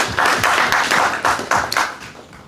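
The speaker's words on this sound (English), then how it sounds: "So I want you to applaud Waziri for the same." An audience at a Bungoma County health department partnerships summit claps briefly, giving a short burst of close, fairly loud hand claps in a loose rhythm that fades out quickly.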